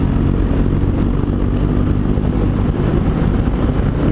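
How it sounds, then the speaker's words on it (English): BMW R 1200 GS Adventure motorcycle being ridden, a loud continuous engine drone mixed with road and rushing air noise, steady throughout with no talking. "that's GS 1200A, an adventure bike"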